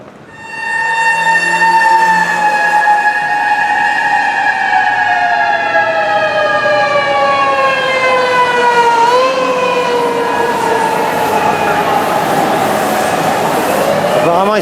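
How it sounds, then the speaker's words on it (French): Fire truck sirens wail loudly on a Tokyo street in Shinjuku, a sustained rising and falling tone that sweeps downward as the trucks speed past, with faint background traffic and no voices. "c'est le cinquième camion de pompiers qui passe à toute allure mais vraiment à fond quoi les gars"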